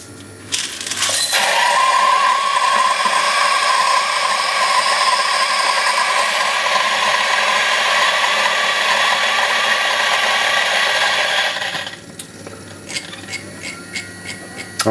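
A DF64V coffee grinder set to 1100 RPM grinds coffee beans in a loud, steady, continuous whir lasting about ten seconds, then cuts off, leaving faint clicks and light handling noises.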